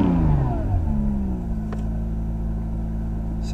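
A 2017 Acura NSX in sport mode accelerating, the engine note sweeping upward in a strong rev before settling into a steady, loud cruising drone close to the cabin.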